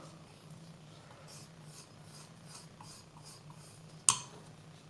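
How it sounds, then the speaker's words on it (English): A palette knife softly rasps and scrapes homemade watercolour paint back toward the middle of the slab in a steady, faint back-and-forth rhythm, ending with one sharp tap. "then I keep scraping it back into the middle"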